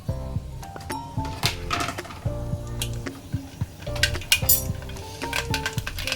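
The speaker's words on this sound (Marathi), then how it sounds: "आता मी ह्याच्यामध्ये टाकत आहे मोहरी" Mustard seeds go into a hot cooking pan at home and pop and crackle in quick irregular bursts of sharp clinks and ticks, close and fairly loud.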